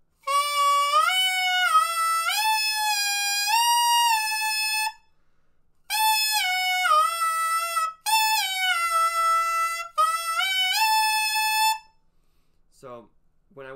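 A saxophone mouthpiece played on its own bends a bright, reedy tone up and down in warm-up phrases. Several loud, sustained passages are split by short pauses, followed by a faint, brief squeak at the end.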